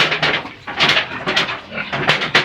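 A male piglet at a rural farm grunts and squeals close by, making a rapid run of short, loud, raspy bursts with no talking.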